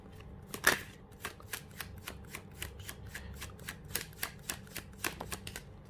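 Tarot cards are shuffled by hand for a single-card draw, giving a close, quiet series of crisp riffling snaps and soft flicks in an uneven rhythm, heard alone without speech.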